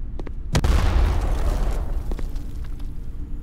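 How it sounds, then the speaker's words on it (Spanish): Deep booming explosion of an enemy clone self-destructing in a video game, a sudden loud blast that rumbles on and slowly decays over a few seconds. "Me acerqué a él y se ha autodestruido"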